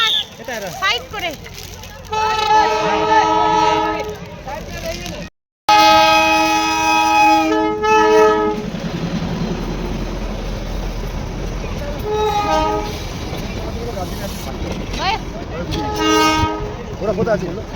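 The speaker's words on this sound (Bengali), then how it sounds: "এই দেখো ট্রেনটা আসছে ওদিক দিয়ে" A toy train on the Darjeeling line sounds repeated toots of its horn as it approaches and passes at Batasia Loop, with rumbling wheels and people talking nearby.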